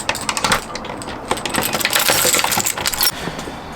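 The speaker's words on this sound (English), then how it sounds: "the customer told me that he left the keys in a wooden box" Metal keys jangle and clatter inside a wooden box on a Swedish boat, a busy run of close, bright rattling clinks and knocks lasting a few seconds with no talking.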